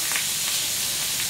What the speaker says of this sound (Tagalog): Ayun na, magpiprito po tayo ng isda.